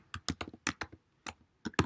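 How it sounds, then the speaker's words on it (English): Typing on a computer keyboard while programming sprite wall collisions, with irregular clusters of sharp key clicks and a heavier final keystroke, close and alone. "Typing is just not agreeing today."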